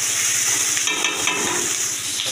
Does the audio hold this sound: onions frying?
yes